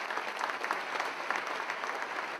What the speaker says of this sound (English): Please give her a large round of applause.